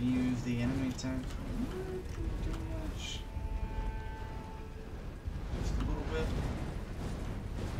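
Bird calls in the open world of the Elden Ring: Shadow of the Erdtree video game, a few coos and chirps that come and go over a steady ambient game soundtrack, with a voice talking over it.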